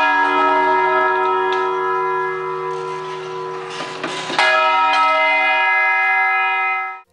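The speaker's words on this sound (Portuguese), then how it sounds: "As igrejas têm um interessante e peculiar sistema de comunicação através dos sinos" Church bells ring in the historic colonial town of São João del Rei, Brazil, their long sustained tones layered and overlapping, with a fresh strike near the middle before the ringing fades out at the end.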